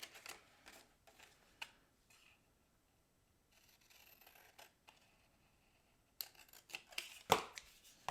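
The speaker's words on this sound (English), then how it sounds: "let's bring in our scissors and just cut that square out." Scissors snip a square out of card paper in short crisp cuts, close and fairly quiet, with pauses between clusters of snips and some paper rustling.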